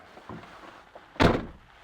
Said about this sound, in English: Door shuts really well.